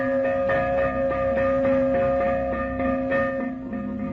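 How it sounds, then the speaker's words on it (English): A fire alarm bell rings steadily and loudly, a sustained metallic tone with rhythmic pulsing strikes repeating roughly every half second, alone without voices. "And when the fire bell sounded,"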